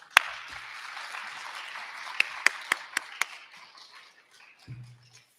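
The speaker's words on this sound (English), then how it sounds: "Now's the time to applaud." A small crowd at a regional science and engineering fair claps in a steady patter, a few louder individual claps standing out before the applause thins and fades.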